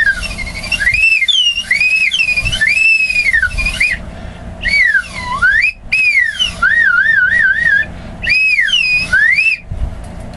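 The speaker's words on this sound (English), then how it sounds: "She makes as much sense as a slide whistle." A slide whistle plays loud, wavering glides that sweep up and down in pitch, in several long bursts separated by short gaps, with no talking.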